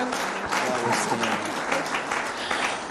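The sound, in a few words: audience applause in church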